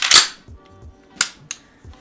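A Springfield M1A Scout Squad rifle fires once at an outdoor range, a sharp loud crack at the start followed by two smaller distant pops and faint rustling, with no talking.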